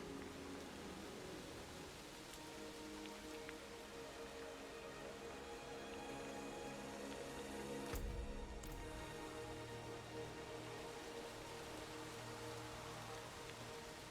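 Blood rain in the Diablo 4 video game, a steady, faint hiss of rainfall on surfaces that continues unbroken, with a brief low thud in the middle.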